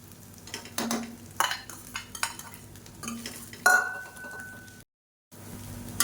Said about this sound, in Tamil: முட்டையை சேர்த்துட்டு நல்லா சாஃப்டாக பரட்டி விட்டுக்கலாம்